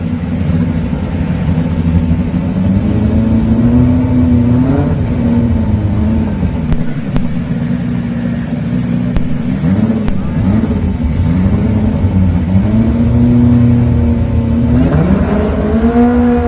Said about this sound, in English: Left side, bring the engine up.